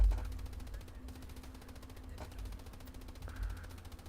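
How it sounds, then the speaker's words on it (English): Ammunition cooking off inside a Stuart light tank in a video game, a rapid rattling burst of small explosions like machine-gun fire, with a couple of sharper cracks standing out over a low rumble. "Stuarts would cook off like that because they carry too much ammo"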